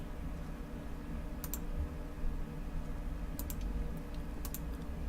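Faint, sparse clicks of computer keys as a date is typed, a few isolated taps in small clusters over steady low background hum, no voices.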